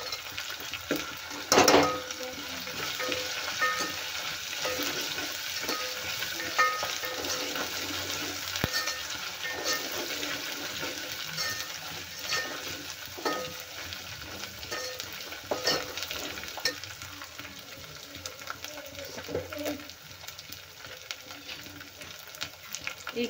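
Fresh curry leaves fry in hot oil for a puran poli meal, a dense steady sizzle and crackle close by with stirring and an occasional utensil knock, one louder burst early on.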